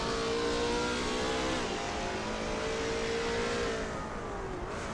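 A Lola T70 MkII Spyder race car engine at Road America in a racing video game, droning loud and steady. Its pitch dips as it shifts gear at about the midpoint, then climbs again and falls near the end.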